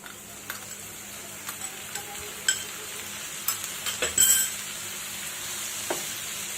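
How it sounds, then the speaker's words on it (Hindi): Tomatoes and spices with black pepper and salt stirred and cooking in a pan with softened onions, a steady sizzle under scattered scraping and clinking taps of a spoon against the pan. "तो अब हम इसमें डाल देते हैं टमाटर"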